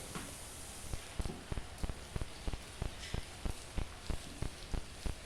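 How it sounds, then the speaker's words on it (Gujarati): Heavy monsoon rain pours down in a steady dense hiss, with sharp drips or taps landing in a regular rhythm about every half second close by; no voices. "વરસાદ ચાલુ જ છે અત્યારે ને ધોધમાર પડે છે"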